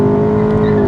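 A Mk7 VW Golf GTi engine revving up through second gear, a loud, steady, close-up motor tone with strong harmonics, brief and continuous.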